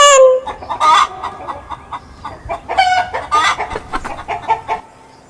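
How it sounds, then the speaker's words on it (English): A hen clucks over and over in close, loud, uneven bursts, with short pauses between the throaty calls and some higher squawks mixed in. "H for hen."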